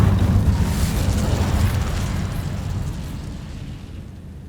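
A fire spell cast in the wizarding game Hogwarts Legacy bursts into a loud roaring whoosh of flame that slowly dies away over several seconds, with no talk.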